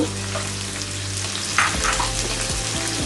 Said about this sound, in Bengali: দিয়ে দিচ্ছি কাঁচামরিচ